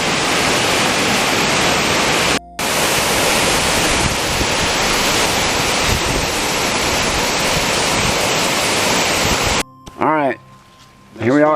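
A waterfall on the Appalachian Trail roars as a loud, constant broadband rush, briefly cut off twice before giving way to quieter sounds at the end.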